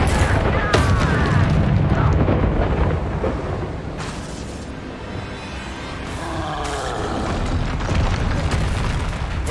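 Repeated spell blasts from Confringo and Bombarda in Hogwarts Legacy, loud booming bursts layered over a dense, continuous wash of combat noise and game sound for the whole stretch.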